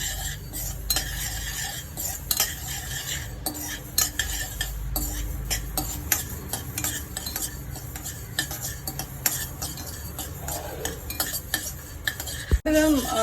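Fenugreek seeds dry-roasting for mango pickle, stirred constantly in a pan: rapid dense clicks and rattles of seeds with spatula scrapes, close and steady, no speech.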